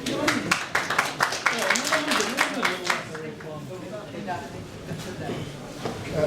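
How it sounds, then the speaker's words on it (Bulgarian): An audience claps after a talk on herbal products and honeybee health, a burst of scattered hand claps over the first half that thins and fades while a voice talks over it. "Тук следват аплодисменти."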